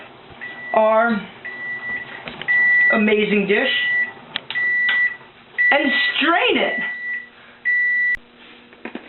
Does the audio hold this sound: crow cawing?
no